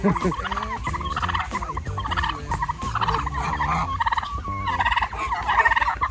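Several turkeys gobble close by in repeated bursts, their rattling calls overlapping loudly with little pause between them.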